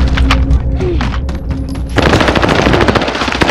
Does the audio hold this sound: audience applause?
no